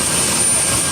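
A military helicopter gives a brief, loud, continuous engine and rotor roar, close and steady with no other sounds.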